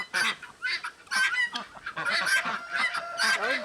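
Guinea fowl on a farm calling, a rapid string of harsh, honking cries from several birds overlapping in quick bursts, close and loud with no pauses.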